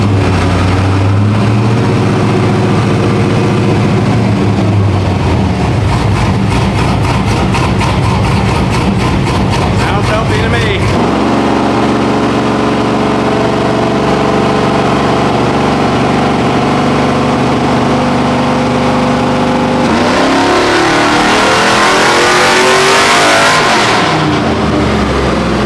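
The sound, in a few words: LS-swapped Chevy OBS truck engine revving on dyno pull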